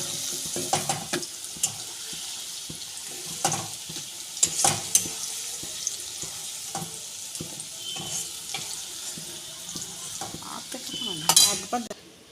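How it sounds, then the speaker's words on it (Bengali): Mushrooms fry in a pan as a utensil stirs them, producing a continuous soft sizzle broken by scattered scrapes and clinks against the pan. "মাশরুমটা আমার পুরোপুরি ভাজা হয়ে গেছে"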